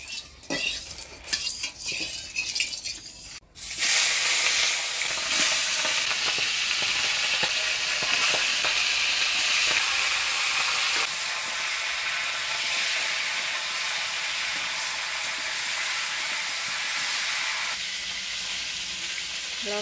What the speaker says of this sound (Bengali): এবার মাছের মুড়াটা ভাজে নিব।